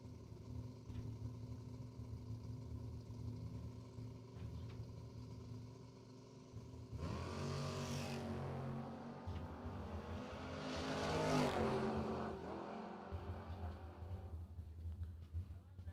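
Drag racing at a SuperBucks Showdown event, with a Mustang and the Patton Racing Maverick launching side by side: engines roar loud and swell through the middle of the run, then fade, while an announcer talks over the noise.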